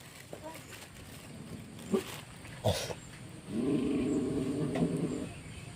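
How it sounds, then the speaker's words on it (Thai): At an outdoor merit-making festival in Laos, a dog barks and growls close by, giving a few sharp barks and then a longer growling stretch, with people talking throughout. "หมามันเห่า"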